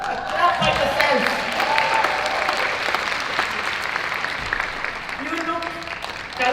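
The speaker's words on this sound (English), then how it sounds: "Clap for yourself." An audience at the opening ceremony of a world conference on women's shelters claps for itself, a full, sustained round of applause from a large hall with voices murmuring and calling out underneath.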